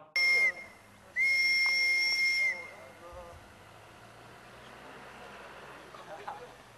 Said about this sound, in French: Tous les membres du camp sont convoqués au coup de sifflet de la direction.